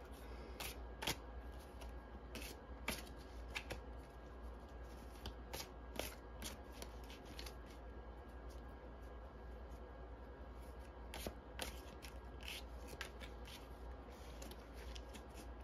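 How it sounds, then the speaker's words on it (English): A deck of cards being shuffled in repeated quick riffles, crisp and close in an otherwise quiet room. "God's telling me to shuffle the deck."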